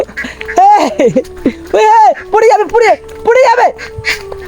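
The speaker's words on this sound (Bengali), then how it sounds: "ওই দেখো হাঁস দেখে কত আনন্দ" Several loud, nasal quacks come in quick bursts close by, mixed with a child's excited chatter and other voices.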